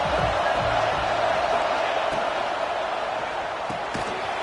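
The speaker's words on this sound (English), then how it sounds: "this crowd is at fever pitch" A football stadium crowd roars in a dense, sustained wash of cheering during a red-zone third down, loud and continuous, with faint game thumps underneath.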